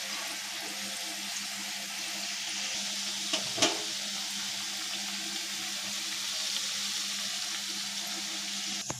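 Potato kachori pastries fry slowly in oil over low heat, a soft, even sizzle with a couple of small clinks partway through.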